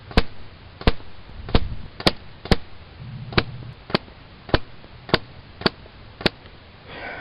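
A Gamo Dynamax .177 air rifle fires shot after shot as groups are shot, giving about eleven sharp cracks at roughly even spacing and close range, with quiet pauses between them.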